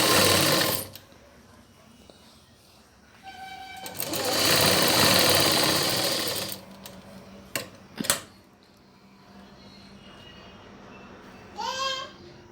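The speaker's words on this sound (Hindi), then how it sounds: "अब देखिए इस तरह हमने इसके चाक फोल्ड करते हुए बेल्ट की स्टिचिंग कर लेते हैं।" A sewing machine stitches a salwar waistband belt in short bursts, running briefly, pausing, then running longer, with a few clicks and ticks between stretches.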